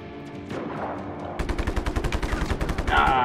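Video game gunfire from Just Cause 3 arrives as a fast, loud machine-gun burst of evenly spaced cracks, preceded by a duller rumbling background of in-game action.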